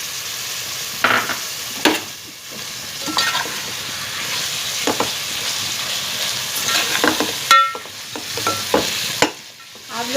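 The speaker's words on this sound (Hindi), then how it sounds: "ये मैं दही भी डाल रही हूँ इसमें" Yogurt being stirred into Chinese biryani in a hot pan, a steady sizzle broken by repeated spoon scrapes and clinks at an irregular pace, close up, with no talking.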